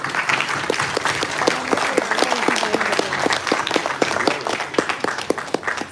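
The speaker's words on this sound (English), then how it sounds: "Can we have a round of applause, please?" Sustained audience applause greets the chief guest from the Liquid Propulsion System Center at ISRO during a university event, a dense steady wash of many hands clapping close and loud throughout, with no talk over it.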